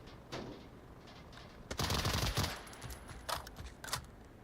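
Gunfire from a military VR shooter, Pavlov, during a competitive team match: a dense burst of rapid shots around the middle with scattered single cracks after, fairly quiet and distant-sounding, no talk.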